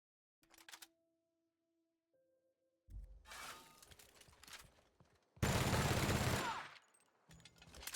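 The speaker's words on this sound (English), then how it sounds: "Get the machine gun now." Bursts of machine gun fire in the video game The Outer Worlds, loud rapid rattling volleys broken by pauses, with one long heavy burst near the end and no talk.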